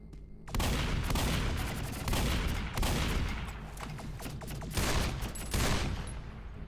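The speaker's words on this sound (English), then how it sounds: "Shotgun." A shotgun fires repeatedly in a video game, with dense, loud blasts and booms in rapid succession over several seconds amid continuous noisy game action, and no speech.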